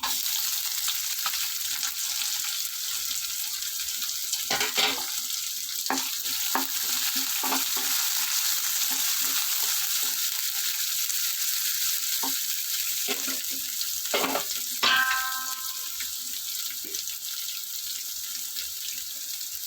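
Onions frying in a pan for bitter gourd curry give a steady, close hiss of sizzling oil, broken now and then by short clinks and scrapes of stirring.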